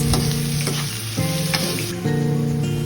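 Ginger, garlic, onion and tomato sauté in a pan with a steady, close sizzle of frying, broken by a few sharp stirring clatters and bursts as ingredients move; no voices.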